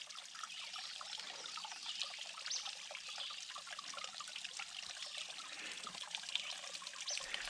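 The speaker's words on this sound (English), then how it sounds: "But it's still a pretty little waterfall." A small waterfall trickles gently after dry weather, a steady, soft, continuous stream of water splashing without breaks, with no one speaking.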